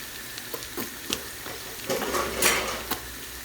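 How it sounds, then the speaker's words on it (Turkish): Food being stirred in a cooking pan while it fries, with a steady sizzle under repeated spoon scrapes and clinks against the pan, close up and with no voices. "Bundan sonra tekrar karıştırmaya devam."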